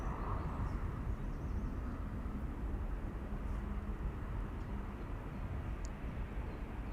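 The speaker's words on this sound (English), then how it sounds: "Air Europa path to Madrid. Not with a Dreamliner, but with a small 737." Air Europa's Boeing 737 departing Amsterdam Schiphol for Madrid makes a continuous, moderately distant jet rumble that stays level from start to finish, alone without voices.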